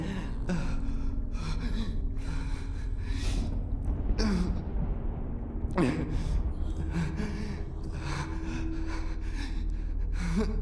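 Heavy, ragged breathing and gasps loop close and steady over a low droning ambience in the horror video game MADiSON, with sharp breaths standing out every few seconds.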